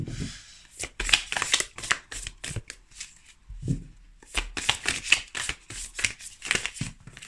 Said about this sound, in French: il y a trop de cartes là qui sautent en même temps